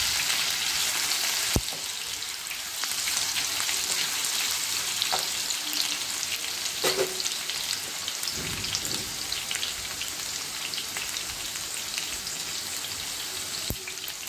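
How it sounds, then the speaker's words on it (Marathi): Potato pieces being stir-fried in oil over high heat, a dense steady crackling sizzle with a few sharp knocks of the spatula, close and without speech. "मोठा गॅस करून थोडासा बटाटा परतून घ्यायचा आहे तेलावर."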